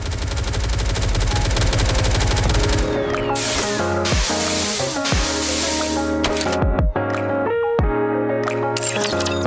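Rapid weapon fire from a skin's shooting pose in Goddess of Victory: NIKKE, a gacha shooter game, crackling in quick loud volleys mixed with whooshing effects and steady background music.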